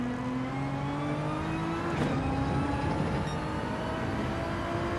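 A Nissan GT-R race car in Gran Turismo 7 drones steadily at high revs, its engine tone holding and shifting slightly in pitch, with another car's engine sound blending in, continuous and fairly loud throughout.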